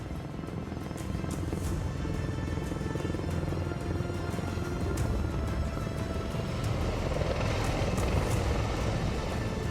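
A V-22 Osprey tiltrotor aircraft in flight, a loud continuous rotor and engine roar with a broad low rumble that holds steady and swells slightly toward the end, with no voices.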